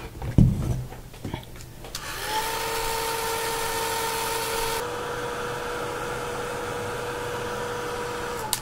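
Heat gun blowing onto embossing paste on a craft surface, a steady whining roar starting after a few soft handling knocks and holding at a constant level close by, with no talking.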